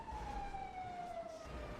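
A police car siren wails in a Thai drama series scene, one steady falling tone held at moderate level over a low background rumble, with no voices.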